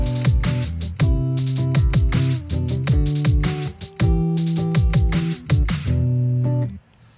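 A programmed FL Studio drum pattern for a beat's chorus plays loud and steady, with punchy kicks, snappy hits and crisp hi-hats looping over sustained synth chords, alone with no voice.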